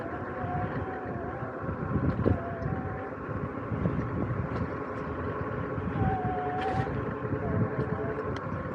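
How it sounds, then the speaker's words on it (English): Steady wind buffets the microphone in a continuous low rumble while riding a Caroma E66 Pro 500W electric scooter into the wind at top speed, with a faint wavering tone drifting in and out of the background. "it's a windy day and I'm going into the wind"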